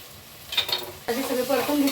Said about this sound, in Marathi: आता इथे थोडीशी आलं लसूण पेस्ट. थोडीशी तेलात परतून घेते.